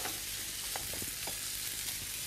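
Liver frying in a pan, a steady close sizzle with crackles and occasional stirring scrapes, no talking.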